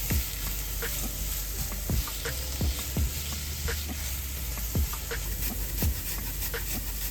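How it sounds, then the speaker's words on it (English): Onions frying in hot oil for a vegan lentil dahl give a steady close sizzle, broken by sharp scraping knocks of a utensil stirring the pan every second or so. "Now that the oil is hot, add the onions and fry until they're translucent."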